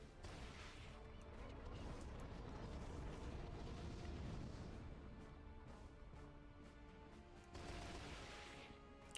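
Missiles explode in the video game Battalion Wars 2 as a continuous rumbling roar of blasts over tonal game music, swelling and easing, with no voices.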